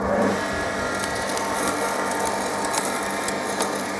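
A lawn machine runs over grass, spraying clippings as it goes: a steady, close mechanical drone with a gritty whirring churn and faint intermittent ticks throughout.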